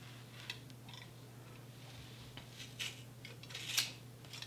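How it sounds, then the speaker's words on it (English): Several faint sharp-scissor snips cutting through yarn for a pom pom at an uneven pace, the last cuts crisper and louder, with a low background hum. "this is where you want definitely to have quite sharp scissors"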